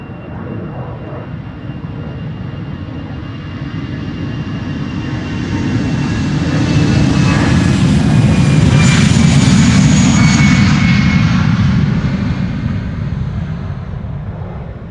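A 14-year-old EasyJet Airbus A320 jet, first flown in June 2009, roars past at Schiphol Airport. The broad engine rumble swells loud and close, peaks, then eases slightly while a whine sweeps across it.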